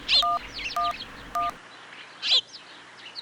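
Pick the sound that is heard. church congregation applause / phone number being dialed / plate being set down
phone number being dialed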